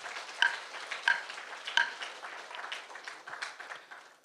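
Applause at an indoor meeting in a conference hall approving a motion: faint, scattered clapping with a few sharper claps, fairly distant and without speech.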